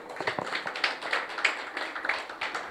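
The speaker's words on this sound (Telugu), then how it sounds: "చప్పట్లు కొట్టాలి ఇప్పుడు" An audience claps hands in an irregular, moderately close patter of soft claps for a few seconds, with no talking over it.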